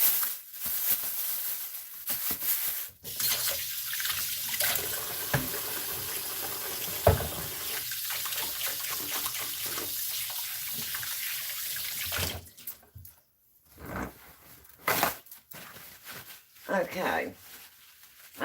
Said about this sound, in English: So let me go ahead and wash my hands here.